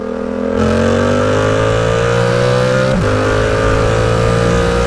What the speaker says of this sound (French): ces détonations là à chaque passage de rapport